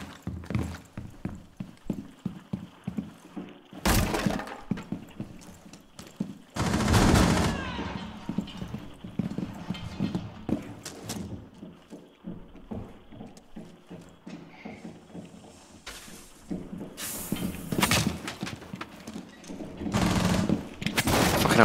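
Gunfire in the video game Rainbow Six comes as several sharp bursts of rapid automatic shots, loud and separated by quieter stretches of game sound and clatter.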